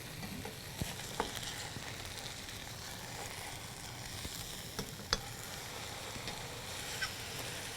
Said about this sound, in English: you want to flip these, when you flip them, you want to flip them away from the opening